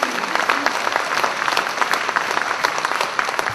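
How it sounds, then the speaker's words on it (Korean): Loud, dense applause from an audience at a political book concert, continuous clapping filling the room with a faint voice underneath. "큰 박수를 보내고 응원하겠습니다"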